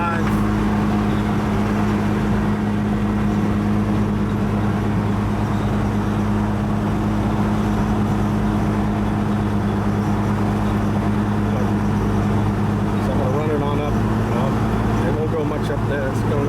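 A 2002 Jeep Wrangler with the 4.0 six-cylinder engine drones steadily at around 2,000 RPM while driving, a loud, constant low hum with road noise inside the cabin and a voice speaking over it.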